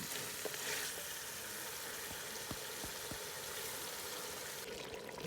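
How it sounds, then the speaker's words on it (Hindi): Meat frying in masala for degh-style chicken korma, a steady loud sizzle with a few sharp scrapes and knocks as it is stirred with a wooden spoon. "ये तकरीबन 15 से 20 मिनट तो हो गए मुझे गोश्त को भूनते हुए मसाले में।"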